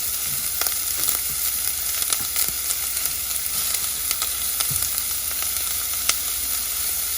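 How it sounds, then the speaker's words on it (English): Steady sizzling of onions frying in a hot pan, a continuous crackling hiss with scattered sharper pops and no talking. "So onions are sizzling."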